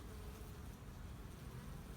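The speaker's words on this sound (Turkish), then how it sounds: "Bal arısı değil bu. Yabani bir arı." Faint, steady buzzing of a wild bee hovering at flowers nearby, a low continuous drone with soft background noise.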